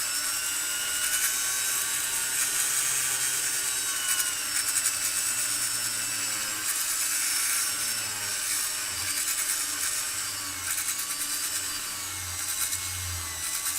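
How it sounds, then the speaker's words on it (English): A piece being polished on a spinning muslin buffing wheel, a continuous high whirring hiss with fluctuating pitch as the workpiece presses against the wheel. "Again, just making sure everything makes contact with my muslin wheel."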